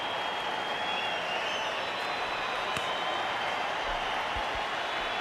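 A cricket crowd applauds a batsman's half century at a one-day international between South Africa and India in Johannesburg, with steady, distant clapping and crowd noise continuing throughout.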